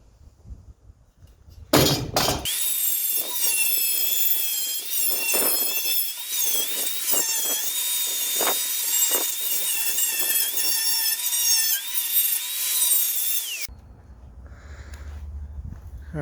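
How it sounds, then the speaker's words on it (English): A wire wheel on a power tool scours a rusted-through, badly pitted core support on a Ford F250 truck, a loud continuous high whine with scraping bursts for about twelve seconds, then stopping abruptly. "so I've hit this with the wire wheel"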